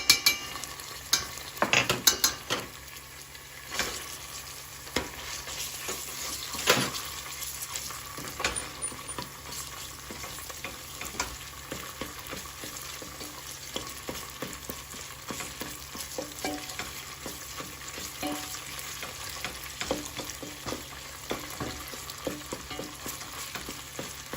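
Onions frying in a couple of spoonfuls of oil for Jewish meatballs, with a steady close sizzle broken by scraping, clattering stirs against the pan throughout, and no talk.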